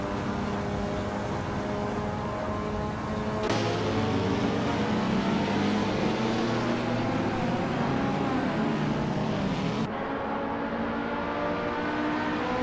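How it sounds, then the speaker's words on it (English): A Lotus Evora Sprint race car engine in a racing video game drones loudly and continuously, shifting pitch midway as it accelerates, then settling again, with no talk over it. "McLaughlin is driving a Lotus Edon Sprint"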